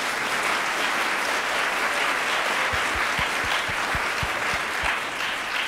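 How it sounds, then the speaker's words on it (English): Steady, dense applause from an audience at a climate storytelling breakout session at a conference, a full round of clapping running evenly throughout with a few louder low thumps near the end. "Let's give her a round of applause."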